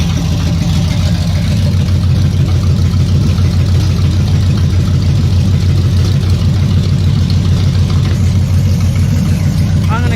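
A Big Block 7.4L 454 V8 in a 1974 Nova idling smoothly and steadily without stutter, a loud, close, deep rumble that holds constant throughout.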